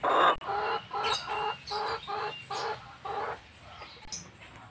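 Backyard garden chickens cluck in a run of short, rhythmic bursts, close and fairly loud, while being hand-fed leaves as a snack; no one speaks.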